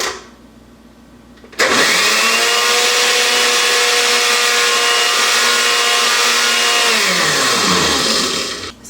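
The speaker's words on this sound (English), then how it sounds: "Leave a little vent here when you are mixing something hot in your blender." A blender mixing hot chocolate starts abruptly after a quiet moment and runs at a loud, steady whir for about seven seconds before winding down.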